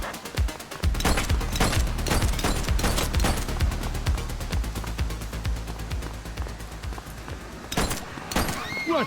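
Video game The Precinct street gunfire, rapid volleys of close, loud gunshots cracking in quick succession for several seconds, with a few more bursts near the end under faint voices.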